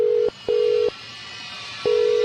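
Three identical steady telephone tones sound in separate beeps with short gaps between them, clear and alone.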